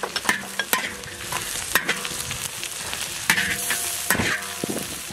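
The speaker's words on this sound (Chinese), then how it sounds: "豆豉火锅多来点豆豉，咸蒜下上也给爆鲜了" Fermented black beans and garlic sizzle loudly in a hot pan while a spatula scrapes and clacks against the metal in irregular strokes.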